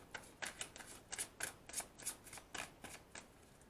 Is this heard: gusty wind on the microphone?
no